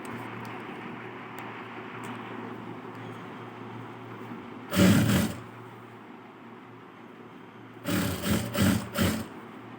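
A sewing machine stitching a blouse runs in a short burst of about half a second, then after a pause in several quick stop-start bursts, close and clear over a steady low background hum.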